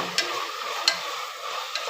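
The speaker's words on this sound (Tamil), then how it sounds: "நல்லா வதங்கட்டும்." Carrot, potato and chickpeas sauté quietly in a home-kitchen pan with a soft steady sizzle. A few light scrapes of a spoon stirring break through at intervals.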